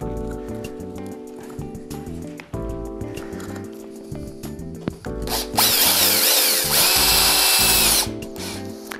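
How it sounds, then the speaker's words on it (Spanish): A power screwdriver drives screws through plasterboard into metal studs while patching a hole in a drywall partition, with short whirring bursts early on and then a loud, sustained run of drilling toward the end. "Damos a atornillar los perfiles"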